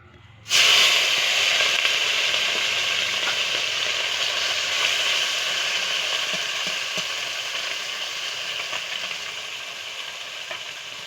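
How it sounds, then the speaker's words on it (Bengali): Fish hit hot oil with a sudden loud sizzle that surges in at once, then holds as a dense, crackling hiss and slowly eases over several seconds, close up and without voices. "চলো, এখানে তেল গরম হয়ে গেছে, এবার মাছগুলো ভেজে নেব।"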